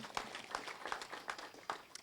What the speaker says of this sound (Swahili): Tupigie Governor makofi.